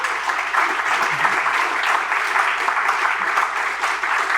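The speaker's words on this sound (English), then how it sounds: "Let's give them a round of applause" An audience applauds at a conference session, a steady dense clapping that holds evenly throughout.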